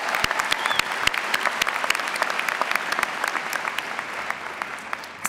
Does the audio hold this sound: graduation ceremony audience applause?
yes